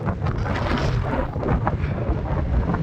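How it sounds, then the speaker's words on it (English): Strong gusty wind buffeting on an exposed hilltop trig point in the Peak District before dawn, loud roaring rumble with blustery surges pressing against the microphone. "Oh, it's very windy up here."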